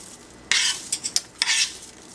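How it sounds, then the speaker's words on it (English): Sweet potato pieces being tossed with seasonings, a sudden bright rustling scrape followed by a few quick clinks and another scraping burst, close up with no voices. "Toss them around, try to get a little coating of seasonings all the way around the potatoes"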